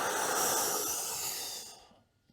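A slow, steady exhalation during yoga breathing practice, a soft breathy hiss that holds for nearly two seconds before trailing off into silence, close and alone with no talk.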